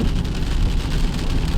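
Steady rain falls during a day of hiking near Jewel Cave, a dense, even hiss with low rumble, loud and close throughout with no talking.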